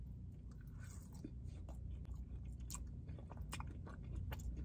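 Close, steady chewing and crunching of hot food-truck french fries, soft mouth sounds repeating under a constant low background hum, with no talking.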